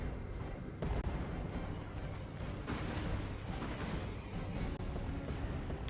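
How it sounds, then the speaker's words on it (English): In the strategy game Dawn of War II: Retribution, a Lord General's grenades pound a power node during a Space Marines versus Imperial battle. Repeated muffled booms and crackling blasts sound fairly faint over continuous battlefield din. "Grenades from that Lord General slowly damaging down that power node"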